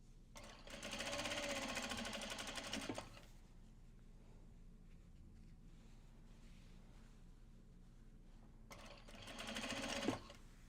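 A sewing machine stitches tote bags made with polypropylene, running in two bursts, one long near the start and a shorter one near the end, with a quiet gap between them.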